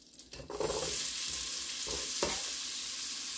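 Onion hitting hot pumpkin soup base in a Dutch oven, a quick rustle then a steady bright sizzle swelling and holding, with a couple of soft stirring scrapes, near and moderately quiet, no speech.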